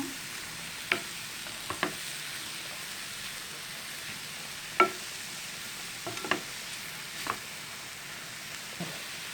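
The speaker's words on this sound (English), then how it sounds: "Let's stir it now" Grated carrot frying quietly in a pan while being stirred, with a soft steady sizzle and sparse scraping clicks of the utensil at irregular intervals, close and fairly faint.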